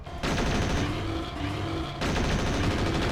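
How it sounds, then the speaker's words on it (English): APC gun firing in MechWarrior 4: Vengeance, a rapid burst of mechanical automatic fire with rhythmic pulses, briefly pausing and resuming, heard over a droning game background. "there's that APC gun"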